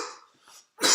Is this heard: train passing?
no